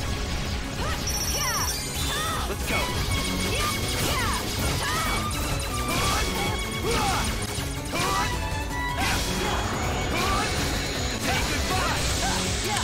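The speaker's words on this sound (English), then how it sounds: "when you hit it, it just sounds like you're, like, smashing up against metal" Metallic smashing and whacking hits from the video game Kingdom Hearts Birth By Sleep, struck over and over amid loud, busy game music and effects.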